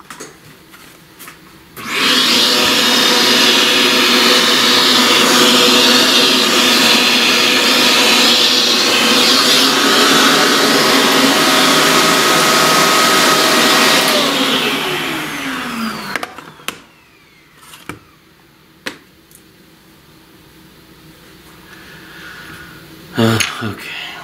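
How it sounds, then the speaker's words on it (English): A vacuum cleaner roars loudly and steadily for about twelve seconds, then winds down, followed by scattered knocks and light handling noises. "Vacuum all this."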